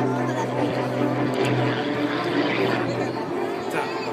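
Rob Holland's aerobatic propeller plane performs at the 2013 Bagotville airshow, and its engine drones loud and continuous throughout. An announcer commentates over it, with a steady broadband roar underneath.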